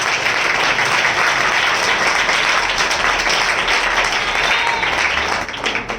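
A Hindi-speaking church gathering bursts into loud, sustained applause to welcome believers, a dense wash of many hands clapping that holds steady before easing off at the end.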